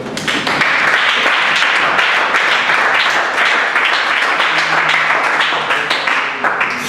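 A church congregation bursts into sustained, enthusiastic applause and cheering that fills the room steadily for several seconds before tapering slightly at the end.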